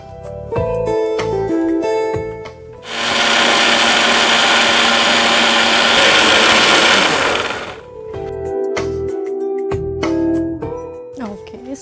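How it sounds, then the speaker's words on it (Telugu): A mixie grinds multi-millet idli batter in a steady, loud whirring run of about five seconds. Softer clattering kitchen sounds come before and after it. "ఈలోపు మనం మిక్సీ పట్టేసుకుందాం"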